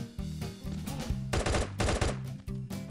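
Gunfire bursts in the mobile shooter Guns of Boom, several rapid stuttering volleys of loud close shots with brief gaps between them, no talking.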